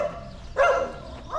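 A dog barks once or twice at a passerby walking a rural Portuguese village lane, moderately close, with steady background ambience.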